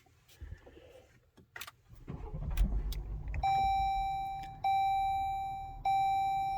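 A 2021 Jeep Grand Cherokee L is unlocked and started: keys jangle and the engine cranks and catches nearby, then a steady electronic chime tone repeats several times over the idle.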